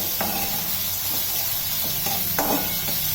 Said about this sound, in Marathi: मिडियम गॅसवर आपण हा छान कांदा असा परतून घेऊया